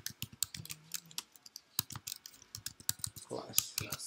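Quick, uneven clicks of a computer keyboard while code is typed, with dense keystrokes close up and a faint voice murmuring underneath.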